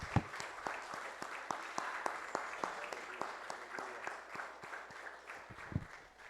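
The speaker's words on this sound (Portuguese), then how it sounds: "Você pode aplaudir ao Senhor bem forte" A church congregation during a family service applauds, a faint distant rain of scattered claps with sharper single hand claps standing out, under a murmur of voices.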